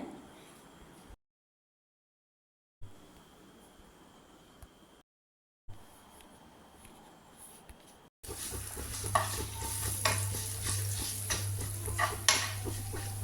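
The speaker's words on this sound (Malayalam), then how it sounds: "ഒരു ഉണക്കമുളകും പച്ചമുളകും കൂടി ചേർത്ത് മൂത്ത് വന്നതിന് ശേഷം കറിയിലേക്ക് ഒഴിച്ചു കൊടുക്കാം" Dried red chillies and green chillies sizzle in hot oil for a curry tempering, a steady close frying hiss with scraping stirs, preceded by quieter gaps and faint clinks.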